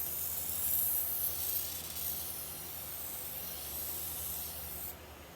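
Fluid Film lubricant sprays from an aerosol can in one continuous close hiss of about five seconds during work on a Cub Cadet GT1554 lawn tractor, then stops abruptly.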